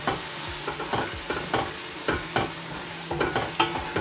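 Chicken, aubergine and potato curry sautés in a pan, with repeated scraping stirs of a spoon over a soft, constant sizzle, close and fairly quiet, and no voice.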